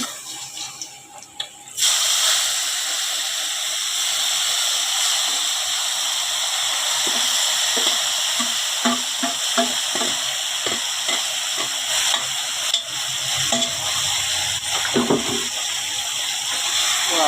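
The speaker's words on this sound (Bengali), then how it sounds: "এবার ম্যাগনেট করা মাংসটা এর ভিতরে দিয়ে দেবো" Marinated meat drops into a hot pan and sets off a loud, continuous hiss and sizzle that starts abruptly after a brief quieter moment, with occasional clinks and scrapes of stirring beneath the steady frying.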